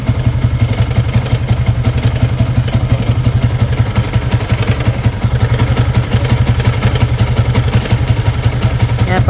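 A 2018 Yamaha Sniper 150cc motorcycle engine idles close and loud with a steady low rumble, and a fast metallic clatter from a loose cam chain tensioner runs through it without a break.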